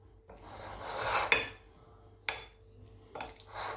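Salad being tossed with dried mint in a bowl, giving a few scattered utensil clinks and scrapes against the dish with soft rustling between them, close and fairly quiet.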